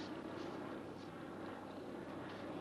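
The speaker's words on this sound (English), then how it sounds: "I was invited to accompany Rusty on one of his training flights in a NASA jet" Continuous broad roar of a NASA jet aircraft in flight, a steady, even engine rumble heard from inside or nearby at moderate level, with no talk.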